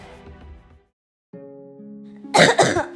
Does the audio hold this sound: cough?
yes